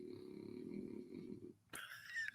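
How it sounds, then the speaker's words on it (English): French bulldog snoring, a low, raspy, rhythmic rumble for about a second and a half that gives way to a brief higher wheezy sound near the end, faint in the background. "He's a Frenchie. Frenchie snore."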